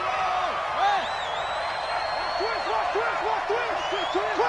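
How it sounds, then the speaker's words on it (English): An American football video game on PS4 carries a steady stadium crowd roar, close and loud, with whistle-like tones over it and a commentator talking throughout. "this crowd urging on their defense."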